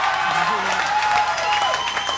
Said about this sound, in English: Cheap applause.